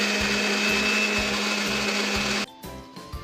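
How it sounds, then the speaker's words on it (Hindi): A mixer grinder whirs at a loud, steady high pitch while grinding tomato and onion into masala, then cuts off abruptly near the end, leaving a few rattles and knocks of the jar. "अभी ऐड करेंगे हम टमाटर और प्याज। अभी हम फिर से साथ में पीस के ले लेंगे।"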